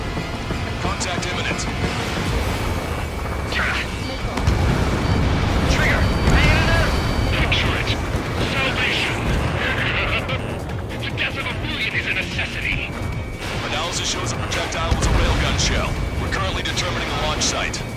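In the flight video game Ace Combat 7, long-range artillery fire and explosions rumble in heavy, sustained blasts under radio chatter and engine roar, with voices talking throughout.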